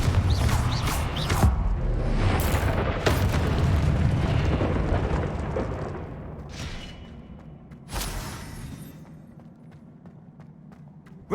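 Confringo fire spells explode in the video game Hogwarts Legacy, producing a dense rumbling roar of blasts and crackles that fades out. A further sharp boom follows a little later, with no speech over it.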